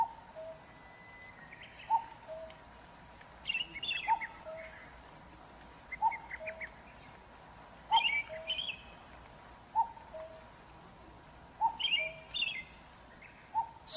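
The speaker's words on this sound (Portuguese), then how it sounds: "Só ouvíamos o sussurrar da brisa e o canto dos pássaros." Birds call in a marsh at Oze in Japan, with a low hooting note repeating about every two seconds and brighter chirping phrases in between, moderately close over a quiet breezy background.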